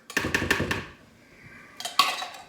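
Canned mushroom soup tipped into a casserole container, a quick run of clattering knocks and scrapes, then a pause and a second burst of clinks, close and fairly quiet with no talking.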